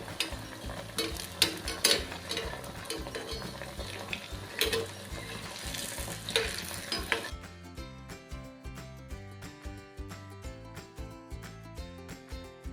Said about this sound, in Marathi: त्यानंतर आपण थोडंसं तेल असं वरती घेऊन ह्यामध्ये हलवत राहायचं